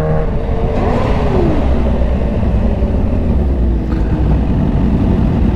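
Kawasaki Ninja H2 motorcycle engine on throttle, a loud, close, steady roar with a brief rise in pitch, heard alone without talk.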